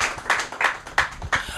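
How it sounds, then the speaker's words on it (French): A studio audience claps to welcome a guest, Jordan Brown, up onto a podium on a television show; the scattered applause comes in a few uneven bursts, fairly close and moderately loud, with no one speaking. "sous vos applaudissements, mesdames, messieurs, lorsqu'il fait sa montée sur ce podium"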